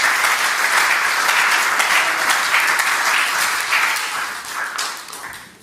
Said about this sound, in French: Acclamons alors très fort le Seigneur Jésus-Christ.